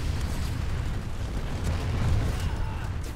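A grenade goes off in the Planetside 2 video game, heard as a deep, rumbling blast that swells and rolls through a noisy battle backdrop for a few seconds.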